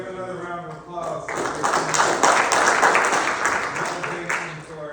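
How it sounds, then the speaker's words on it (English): A classroom gives a student a round of clapping, a spread of scattered hand claps that builds up after a voice speaks, holds for a few seconds, then thins out. "Let's give another round of applause."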